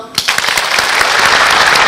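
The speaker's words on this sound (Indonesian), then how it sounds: "Tepuk tangan dong." A studio audience on an Indonesian health talk show breaks into brief, dense applause, with many hands clapping together at close range.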